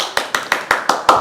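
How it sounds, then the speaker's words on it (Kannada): Six sharp, evenly spaced hand claps ring out close by in a quick, steady rhythm, each a crisp slap with a short decay. "ಚಪ್ಪಾಳೆ."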